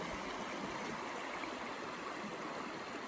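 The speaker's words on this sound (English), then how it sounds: "Just a beautiful creek. It's the Newwood Creek." Flowing creek water at Newwood Creek near a rural cabin property, a steady soft broadband rush and gurgle of the stream, quiet and continuous with no voices.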